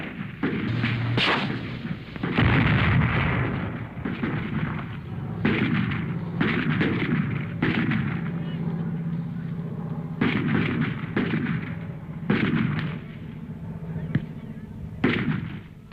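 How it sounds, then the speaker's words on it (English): Viet Cong gunfire in Vietnam War combat, heavy bursts of automatic fire and sharp reports crackling in irregular clusters, loud and close, with a steady rumble of battle underneath. "The Viet Cong are plowing the field with bullets."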